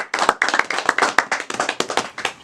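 A small group gives short applause at a wedding ceremony. Close, uneven hand claps patter quickly for a couple of seconds, with no talking over them.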